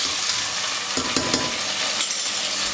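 Onion and green chili sizzle steadily in hot oil for a vegetable biryani, with a few brief clinks of stirring near the middle and toward the end.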